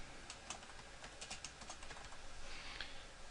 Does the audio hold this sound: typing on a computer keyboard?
yes